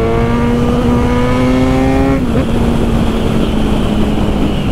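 A Kawasaki Z1000 motorcycle engine revs up, pitch climbing smoothly for about two seconds, then drops back to a rough, steady idle rumble.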